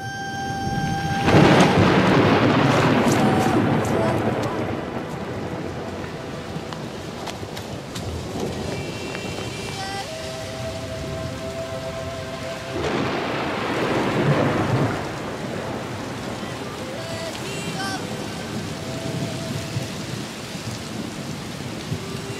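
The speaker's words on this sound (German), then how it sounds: "Bis es gewittern kommt." A thunderstorm breaks over an Alpine mountain hut, with steady rain pattering on surfaces and two long, rolling peals of thunder rumbling loudly through the downpour.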